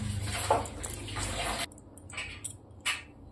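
A small amount of oil pours into a kadai (wok) after browned soybean chunks are removed, giving a brief liquid splash for about a second and a half, followed by a few light clinks and taps.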